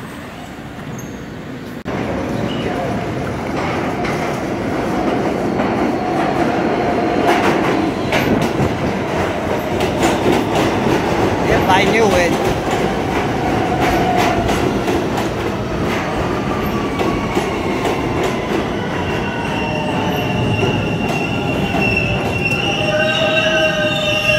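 A Siemens subway train rolls past at close range, a loud continuous rumble with rhythmic clickety-clack over rail joints and rising wheel squeals toward the end.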